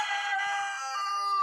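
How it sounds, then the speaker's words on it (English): A rooster in a backyard garden lets out one loud, sustained crow that fills the whole moment, close by and with no talk over it. "He is a good rooster."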